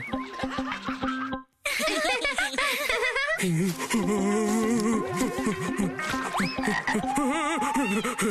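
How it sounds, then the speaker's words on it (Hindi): Frog croaks in a children's cartoon come in a rapid, warbling string of loud, bouncy calls close by, broken by one brief silence, with laughter-like squeaks mixed in. "वो रहा मेंढक।"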